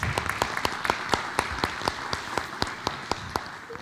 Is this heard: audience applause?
yes